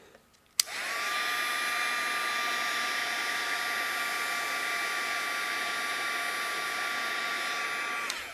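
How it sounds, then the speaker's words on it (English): A craft heat tool switches on with a click and blows a steady, even whoosh for several seconds while melting embossing powder on a card, then cuts off. "Alright, so we'll hit this one now with the heat tool."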